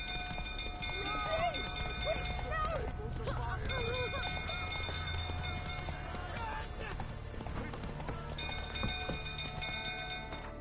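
Roach, a horse in The Witcher 3, gallops with steady rapid hoofbeats and occasional whinnies amid a burning-castle scene, with voices and game music running underneath.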